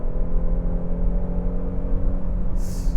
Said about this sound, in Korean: 자, 이제 풀악셀이거든요.